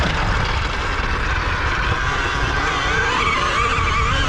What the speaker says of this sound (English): You're gonna get wheel spin